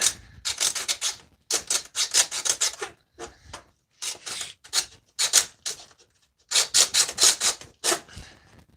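A computer motherboard being cut with a rasping, saw-like tool, heard as repeated bursts of harsh scraping strokes in groups with short pauses between them, close and fairly loud, with no talking.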